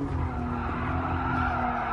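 A car in a driving video game skids with its front end sliding, giving a continuous, fairly loud tire scrub mixed with engine noise throughout, with no voices over it.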